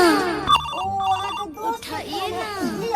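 Mobile phone ringtone playing a melodic tune up close, repeating through the short clip alongside voices talking.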